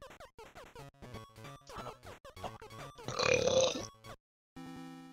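Cartoonish burping and grunting sound effects in Donkey Kong '94 come in a rapid string of short bursts, followed by a louder, longer belch and then a brief tone.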